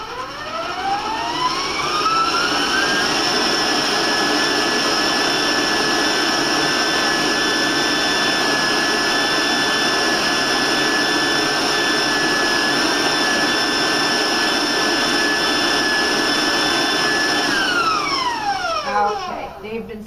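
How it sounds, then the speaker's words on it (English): Electric hand mixer beats egg whites with granulated sugar, a loud steady whine that spins up at the start, holds evenly for a long stretch, then winds down at the end. "Now I'm just going to put my mixer on just for a few seconds"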